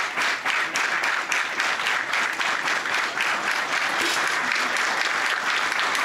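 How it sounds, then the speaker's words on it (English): Audience at a men's 10m air rifle final at the ISSF World Cup in Munich claps steadily, a dense, continuous patter of many hands heard throughout at moderate loudness. "Kind of clapping in the background already."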